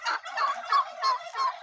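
Turkey gobbling in a farmyard in Bonou, Ouémé, four quick rattling bursts close by and alone.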